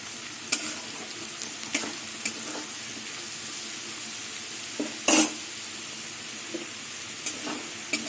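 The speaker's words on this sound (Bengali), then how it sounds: "আলু ভাজা হয়ে গেছে" Potatoes frying in a pan with a constant sizzle, broken by occasional spoon scrapes and one brief louder clatter.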